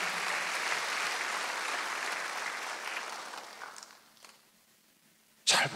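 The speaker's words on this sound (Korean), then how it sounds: "박수 한번 더 주세요" Audience applause at a Korean church Wednesday worship service, dense clapping that fades out over a few seconds, followed by near quiet and a sharp sound at the end.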